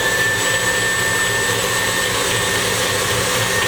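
An electric mixer beats German chocolate cake batter at high speed, giving a steady, loud, continuous whir with no pauses and no voices.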